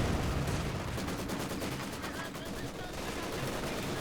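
An MG42 machine gun fires in the Company of Heroes strategy game, with rapid rattling bursts layered over a dense battlefield din of distant gunfire and explosions, continuous and moderately loud throughout.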